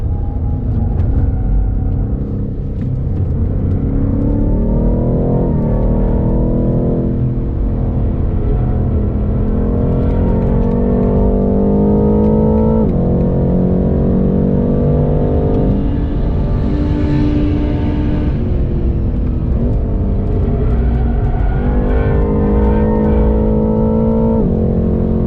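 BMW M8 Competition engine on a fast lap at Silverstone circuit, loud and continuous from inside, with revs climbing and falling through repeated gear shifts and throttle lifts.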